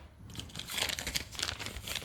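Close, crinkly plastic packaging around Volvo V70R headlight wipers rustles and crackles in quick irregular bursts, with a few scissor snips, quiet and with no voices.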